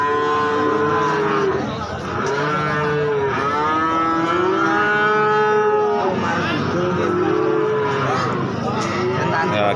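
Cattle low repeatedly at a busy livestock market, several loud, near moos with rising and falling pitch, while someone talks over them.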